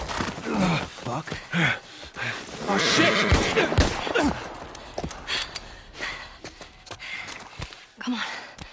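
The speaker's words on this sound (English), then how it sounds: "Just get the horse." A horse whinnies amid The Last of Us Part I game sound effects and ambience while a person speaks and curses over it, the neigh rising loudly near the middle.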